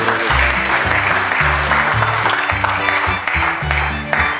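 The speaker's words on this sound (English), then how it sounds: "Give a very big clap offering." Congregation clapping at a bishops' and pastors' leadership conference in a Ghana church, a busy burst of many hands clapping over a deep rhythmic bass music line, fairly loud and continuous.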